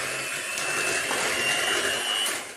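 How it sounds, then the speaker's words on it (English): Handheld electric beaters whisking a condensed milk mixture in a bowl, a steady high whirring drone that continues unbroken for a few seconds. "If you have one of these electric beaters, all the better."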